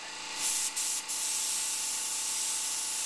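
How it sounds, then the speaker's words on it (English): Airbrush with a lid spraying paint highlights onto model rivets, a close, steady airy hiss that swells in at the start with two short dips, then holds evenly. "I am using an airbrush with a lid on it"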